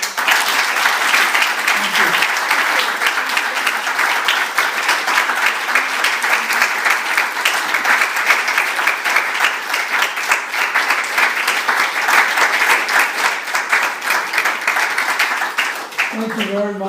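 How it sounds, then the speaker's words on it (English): Sustained, dense applause from a lecture audience in Santa Monica honouring the speaker Carrie, loud and steady throughout, tapering slightly at the very end. "one more round of applause for Carrie"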